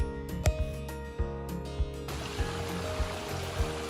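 A small, low-flowing spring-fed stream on a ranch in Humboldt County, California, trickles steadily nearby, with a few soft knocks and thumps over the continuous water noise.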